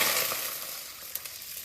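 Hot oil in a small pot hisses and sizzles as ginger water goes in over scallions for clear-stewed river fish, a close, bright crackle that eases off, then a few light clinks.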